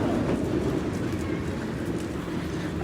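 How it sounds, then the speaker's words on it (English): Trams pass through snowy Helsinki city centre near Esplanadi park on an afternoon with nearby construction, a loud, continuous rumbling roll with faint rail clatter and street noise. "Of course, you'll also hear the trams and things,"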